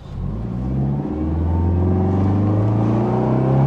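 A car accelerates hard at full throttle, its engine note rising in a strong, steady climb after a brief dip near the start, loud and close with no voices over it.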